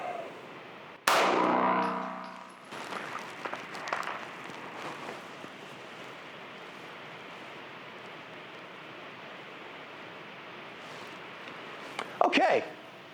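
HK USP 9mm pistol shot at a range: one sharp, loud report with a ringing tail, then scattered clatter and another burst of impulsive bangs near the end over steady outdoor background hiss.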